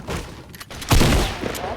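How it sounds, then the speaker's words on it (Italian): A pump shotgun blast from Fortnite cracks out loudly in a single heavy shot, with a shorter burst just before it amid brief game noise. "io adesso sparo le pompate a caso"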